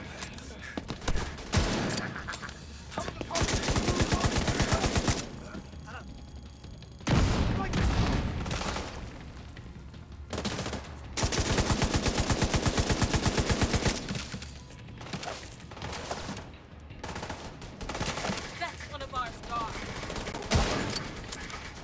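Gunfight in the video game The Division 2: loud bursts of rapid gunfire come in several stretches, separated by brief quieter gaps, with scattered shots and booms between them.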